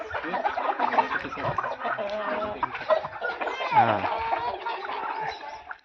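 Hens clucking and chattering close by in a busy, irregular stream, with a person's voice mixed in now and then.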